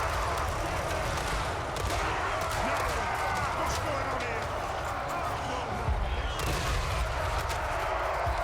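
Enemy gunfire and missiles in a Thunderbarges match form a continuous, dense crackle of shots and impacts, while a voice talks over much of it.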